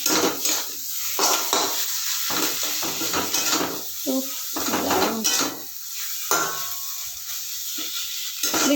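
Taro leaf greens with torn green chillies are stirred in a pan. Close scraping and clattering of the utensil against the pan come in uneven bursts over a soft sizzle.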